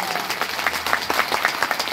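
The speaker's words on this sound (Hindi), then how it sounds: "इनके लिए जोरदार ताली बजाइए भैया।" An audience at an outdoor Ram Katha religious gathering in Banka, Bihar, claps steadily, a brief burst of dense, crisp applause with no one speaking over it.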